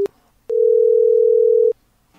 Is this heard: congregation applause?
no